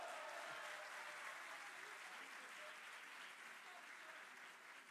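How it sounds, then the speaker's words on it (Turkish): Audience applause at a university graduation ceremony, a broad, even wash of many hands clapping at a distance that fades slightly toward the end. "alkışlarla kestiniz"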